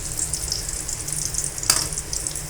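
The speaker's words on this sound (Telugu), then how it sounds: "ఇలా తయారు చేసిన గవ్వల్ని ఆయిల్ డీప్ ఫ్రై చేసుకొని సరిపడా ఆయిల్లో ఇలా" Gavvalu, small shell-shaped dough sweets, deep fry in oil with a continuous bright sizzle and one brief louder crackle partway through, with no voices.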